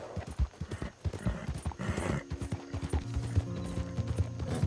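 Horse galloping in the Red Dead Online video game, a rapid rhythmic clip-clop of hooves that runs steadily throughout, with mechanical clicks and a brief snort mixed in.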